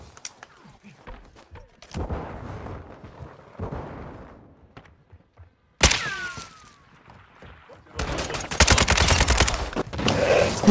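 Kastov 762 rifle fire in Call of Duty MWII during an objective match: scattered single shots and short bursts at first, then dense, loud rapid fire with overlapping distant gunfire through the final seconds.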